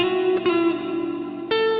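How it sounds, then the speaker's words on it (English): Sustained synth-like tones pass through a reverb plugin, a bright processed sound with a lingering reverberant tail and a few brief note changes, with no talking. "I'm going to use this reverb here."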